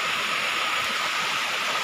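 Water at Khlong Narai falls in Namtok Phlio National Park, heard as a steady, dense rushing roar, close and even, with no voices.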